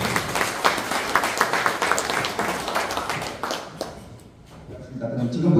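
An audience applauds to welcome a guest, a Buddhist monk who heads a forum, at a lecture event. Brisk, fairly close clapping fades out around the fourth second and is followed by a low murmur.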